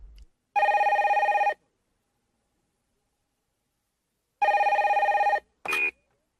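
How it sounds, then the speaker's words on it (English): A telephone bell rings in two long, loud electronic bursts separated by a silence of about three seconds, followed by a brief clipped third ring, with no voices. "Then the phone rings."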